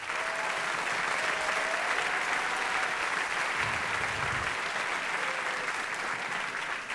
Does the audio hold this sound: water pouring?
no